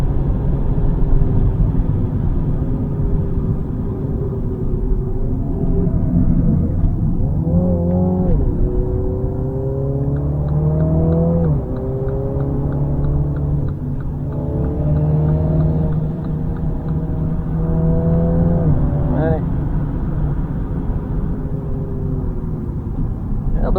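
Mini cars racing on the Zolder circuit during a Mini fan trackday, engines droning and rising and falling through gear changes, a drifting car among them, loud and continuous with faint tire noise.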